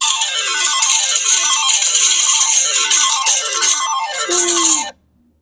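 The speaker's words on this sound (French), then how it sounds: "Là, c'est des machines à sous au casino." A casino slot-machine style phone ringtone plays loudly, with bright electronic jingles cascading downward over and over before cutting off abruptly near the end.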